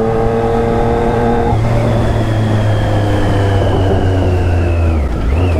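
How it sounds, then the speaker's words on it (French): A loud Kawasaki Z H2 motorcycle engine runs close and steady, its droning pitch drifting slightly before dipping near the end, with no talking. "fait trop de bruit ta moto."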